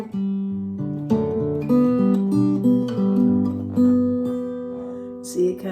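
Fingerpicked acoustic guitar playing a chord melody, bass notes under a flowing upper line, close and clear with no talking.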